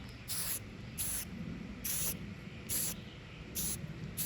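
A spray can hisses in five or six short bursts of about half a second each as paint goes onto a mirror frame that was scuffed with sandpaper, the bursts evenly spaced and close.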